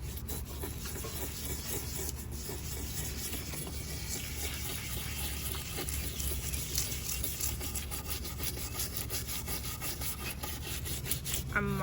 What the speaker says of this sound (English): I think is good enough now actually to go ahead and start scrubbing it